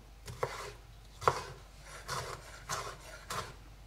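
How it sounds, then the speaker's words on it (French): A knife chops a bell pepper into small cubes on a board for a fresh summer salad: about six crisp, evenly spaced cuts, close and fairly loud, with no talking. "Et là, je coupe à nouveau. Et de cette façon, j'obtiens des petits cubes de poivron"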